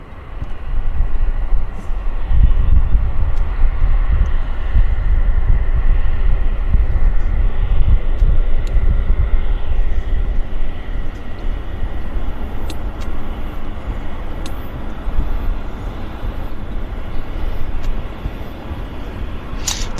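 A WestJet Q400 turboprop airliner inbound from Victoria arrives at Vancouver airport, its loud low engine drone rumbling steadily for the whole stretch with slight swells and a few small clicks nearby.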